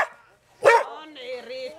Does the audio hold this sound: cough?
no